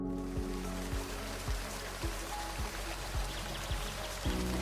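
A running shower sprays a steady hiss of water, broken by a few low thumping knocks spaced about every half second, all at a moderate, fairly close level with no voices.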